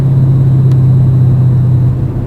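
A 2011 Mustang 5.0 with an MRT Interceptor axle-back exhaust decelerating through 2000 RPM, giving a loud, steady low exhaust drone with a sustained hum that eases off slightly at the end.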